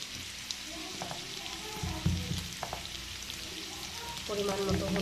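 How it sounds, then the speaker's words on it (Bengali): Masoor dal and vegetables (bottle gourd, carrot, potato) frying in oil with black cumin, a soft steady sizzle with occasional light clicks and stirring scrapes, fairly quiet and close. "মুসুরির ডালটা আর সবজিটা তেলে একটু সময় কষিয়ে নিলাম"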